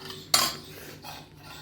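A metal spoon clanks once sharply against a steel tiffin box while food is scooped in, followed by softer scraping.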